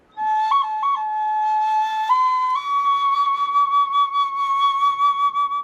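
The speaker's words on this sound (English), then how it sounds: "Flutes carved from bone." Bone flute, like those excavated at Chavin, played inside a stone tunnel: a clear, pure whistling tone with a few quick trills before it steps up and holds a long, bright note, loud and alone.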